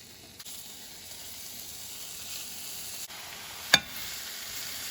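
Beef rolls sizzle in a hot oiled pan with a soft, even hiss, close but fairly quiet, broken by a single sharp click or pop near the end; no voices.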